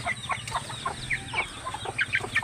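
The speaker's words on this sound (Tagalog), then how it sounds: "mga manok lang sa mga tangkal mga idol." Several chickens in coops cluck close by in quick, overlapping bursts, with a low murmur of background noise beneath them.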